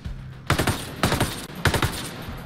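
Three distinct bursts of rapid suppressing gunfire in the tactical shooter Ghost Recon Breakpoint, each a short, loud, rattling string of shots separated by brief pauses.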